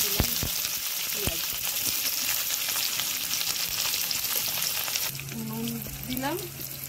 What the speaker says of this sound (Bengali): রসুনটা ভাজা ভাজা হবে